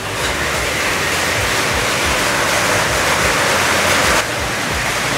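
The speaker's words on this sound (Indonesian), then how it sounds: "hujan ya, tempias ya, sini kali." Heavy rain pours outside a warung in Tasikmalaya, kicking up splashing spray as a loud, continuous broadband rush that holds steady with no speech over it.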